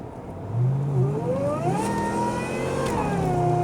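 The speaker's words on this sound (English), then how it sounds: "Hear the supercharger? Oh, what a glorious sound." The supercharged engine of a 1998 Ford Crown Victoria P71 Kenny Brown P2 Panther revs hard and close, its pitch climbing through gears with a whining supercharger over the roar.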